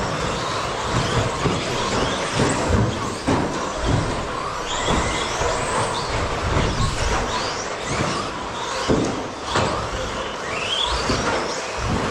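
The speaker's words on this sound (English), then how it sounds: "This is all that car shaking." A race car at EBRC Raceway in Roseburg, Oregon shakes and rattles continuously, a loud, steady roar of rumbling and clattering with occasional harsher jolts and no pauses.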